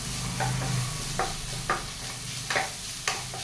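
Onion and tomato sauté in a pan for an Indian-style egg stir fry, giving a steady close sizzle under several sharp scrapes of a spatula stirring through the mixture.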